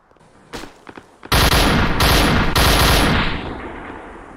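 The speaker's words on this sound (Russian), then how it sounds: "Ну как он так точно стреляет?" Gunfire in the VR shooter PUBG VR: a couple of faint shots, then a loud sustained burst of rapid automatic fire in three close bursts that tails off.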